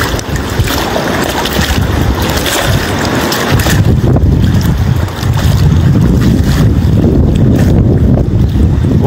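Strong headwind roars across the microphone over the open water of Lagoa dos Patos at Arambaré, with splashing and sloshing of current underneath, loud and continuous without any speech.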